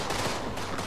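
Short burst of AK rifle fire in the House of Ashes video game, rapid dense cracks packed into under a second, loud and close.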